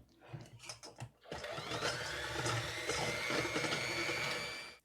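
Electric mixer beating browned butter for shortbread bites, a steady high-pitched motor whine that starts after a few soft clunks and runs loud and close for several seconds before cutting off.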